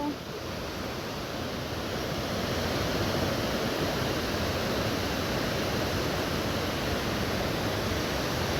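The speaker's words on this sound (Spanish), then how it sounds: "El río de Santa Elena" Steady broadband rush of the Santa Elena river flowing in Joyabaj, Quiché, constant and fairly loud, with no breaks or voices throughout.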